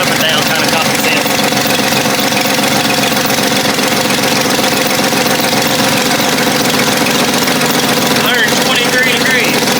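A Jeep 4.0L straight-six engine idles at close range in a steady, loud, rough run with a faint knocking texture, and a voice is heard briefly over it.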